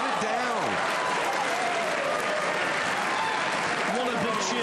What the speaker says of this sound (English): What a big cheer reverberates around this Harrah's Resort Arena.